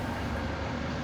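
A train runs in the Trainz: A New Era railway game, a steady, dense rumble and rolling noise, loud and continuous throughout.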